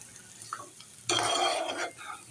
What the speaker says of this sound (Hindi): तो अच्छे से मैंने इसको मिक्स कर लिया। जो बघार लगाया है वो मिक्स हो गया।